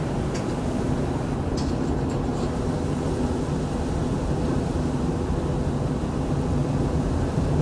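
A Jaguar X-Type with a 2.5 V6 engine drives along, its steady engine and road rumble heard from inside the cabin, loud and continuous without speech.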